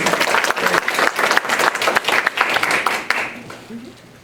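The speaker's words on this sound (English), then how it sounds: "I think he requires a round of applause rather than me." Audience at a community power public hearing breaks into applause, a dense burst of many hands clapping that fades out over a few seconds, with some voices mixed in.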